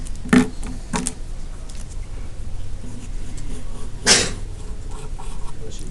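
A sharp sneeze bursts out near the start and another louder one follows a few seconds later, with faint room noise and rustling between them.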